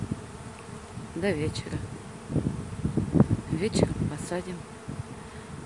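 A secondary honeybee swarm leaves the hive, a dense continuous buzzing of many bees outdoors with light wind, while people talk over it.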